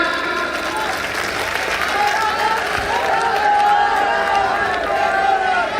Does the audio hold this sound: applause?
yes